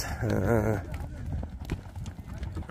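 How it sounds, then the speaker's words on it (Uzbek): Rhythmic horse hoof clip-clops patter steadily after a brief burst of voice, with shouting and crowd noise around them, as a horse is led out for sale at a horse market. "mana shu tortishib kelayotgan ot sotuvga qo'yilgan"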